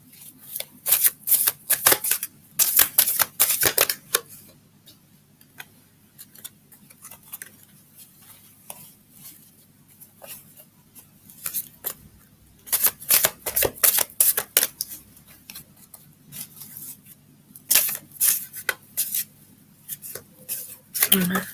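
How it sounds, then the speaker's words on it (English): A deck of oracle cards is shuffled in repeated bursts of rapid riffling and flicking, close to the microphone, with quiet gaps between the bursts. "Let me just shuffle these oracle cards"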